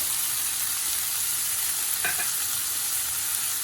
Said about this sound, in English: Saute them until the onions are slightly brown.